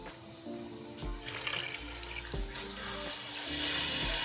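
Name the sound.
water poured into a pot of mutton for biryani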